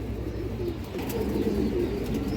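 A female pigeon coos softly and steadily, low murmuring calls running throughout at a moderate distance with faint background hiss.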